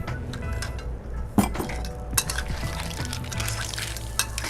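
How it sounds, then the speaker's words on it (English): Clams clatter into a hot pan for a black bean stir-fry, with a few sharp shell clinks and knocks over a continuous cooking hiss. "Add the clams."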